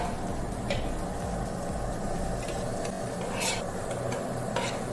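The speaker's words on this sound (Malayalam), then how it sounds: "ഇനി ഇതിലേക്ക് ചോറിടുക." Cooked long-grain rice going into a chicken biryani masala with coriander and mint, a constant close sizzle with rustling stirring and a few brief scraping strokes.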